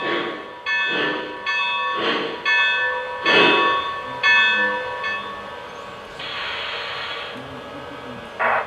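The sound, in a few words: Lionel Legacy 2-6-6-2 Mallet model locomotive bell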